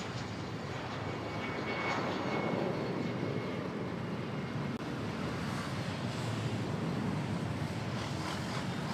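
Airbus A320 jet at Manila airport on a flight to Dumaguete, a steady loud roar of engines with broad rushing noise, continuous and unbroken with no voices.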